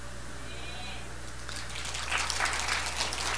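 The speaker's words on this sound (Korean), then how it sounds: "우리 박수 한번 합시다." A church congregation breaks into applause, distant and muffled at first under a steady hum, then the clapping builds and continues for a couple of seconds.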